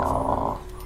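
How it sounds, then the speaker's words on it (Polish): A pet dog in The Sims 4 growls low and steadily in a single short burst, fairly close and loud, with no voices over it. "Pies mi oszalał."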